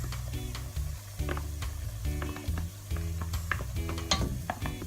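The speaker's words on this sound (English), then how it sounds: "So what I'll do then is to add my pepper mix." Pepper mix goes into a hot pot of oil for Nigerian party jollof rice, giving a soft frying sizzle with scattered spoon clicks and pot clatter over a low, steady tonal hum.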